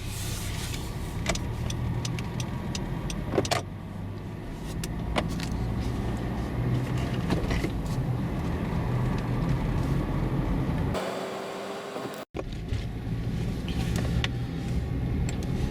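A Honda CR-V 2.0 drives slowly out of a housing estate, with a steady low engine and road hum inside the cabin, occasional clicks and a short muffled dropout near the end.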